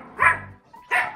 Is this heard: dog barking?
yes